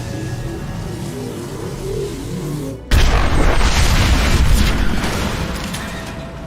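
Fuel tanks blow up in a big explosion in the video game Mass Effect 2, a sudden loud boom at about three seconds followed by a roaring blast and rumbling debris that slowly fades.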